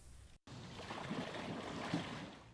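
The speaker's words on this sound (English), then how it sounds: "Just the sound of canoe paddles on the water." Canoe paddles dip and pull through the water of an urban creek: soft, faint splashes and swishes over a quiet background, with a brief dropout near the start.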